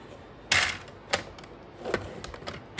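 A scoring tool presses lines into paper with a few sharp, separate clicks and scrapes spaced irregularly, close and fairly loud against a quiet background.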